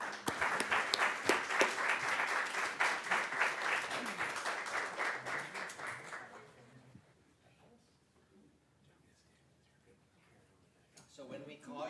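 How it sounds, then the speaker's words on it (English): Applause from an audience at a school board meeting, dense steady clapping filling the first six seconds before fading to near quiet, with a brief burst of noise at the end. "Let's give them a round of applause."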